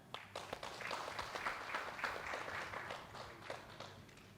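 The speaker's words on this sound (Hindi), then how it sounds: "जोरदार तालियों के साथ सर" An audience claps to welcome the editor-in-chief of Sudarshan News at a freedom-week lecture series. The applause is fairly soft and moderately dense, with distinct individual claps picking out through the patter before it thins toward the end.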